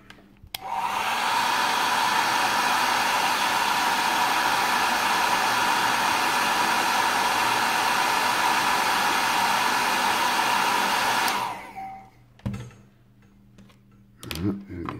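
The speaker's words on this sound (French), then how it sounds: "un petit coup de sèche-cheveux" A hair dryer blows steadily on a Ferrari F430 Challenge model kit, a loud, continuous whooshing hum lasting about eleven seconds before cutting off, followed by a few faint clicks and handling noises.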